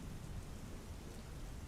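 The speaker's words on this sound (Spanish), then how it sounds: "después de una tormenta" A steady wash of heavy rain under a thunderstorm, dense and continuous with a low rumbling undertone, with no voices.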